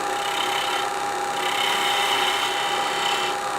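A detail gouge carving wood on a bell ornament gives a steady, close scraping hiss that runs unbroken, with no voices.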